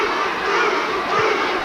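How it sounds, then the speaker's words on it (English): Boxing arena crowd at a heavyweight bout between Oliver McCall and Bruce Seldon, fans taking up a steady chant that swells into a dense, continuous roar filling the hall. "Crowd taking up the chant, Bruce, Bruce."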